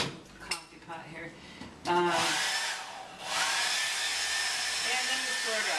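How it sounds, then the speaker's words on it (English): A Hello Kitty blow dryer blasts air while drying a dog during a shampoo, switching on with a sharp whirring hiss that runs steadily after some brief clatter and handling noises near the start. "her Hello Kitty blow dryer"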